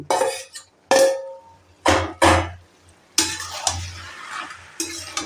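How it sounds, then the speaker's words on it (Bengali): Fried fish head being stirred into simmering cabbage curry in a pan, giving scraping, clattering strokes in separate bursts with soft sizzling between, close and fairly loud, no talk. "দিয়ে সুন্দর করে নাড়াচাড়া করে দেব"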